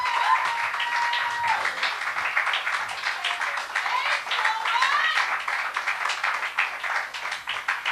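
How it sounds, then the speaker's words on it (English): Audience applause and cheering at a poetry slam in the Uptown Arts Bar, a dense, steady wash of clapping lasting the whole stretch, with a few whoops and voices calling out over it. "Round of applause."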